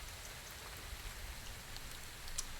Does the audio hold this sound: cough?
no